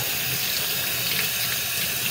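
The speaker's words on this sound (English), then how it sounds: "I'm just going to give this a quick rinse" Running water gushes steadily from a tap as a Sunsun 704B aquarium canister filter part is rinsed, a constant close hiss and splash with no talk.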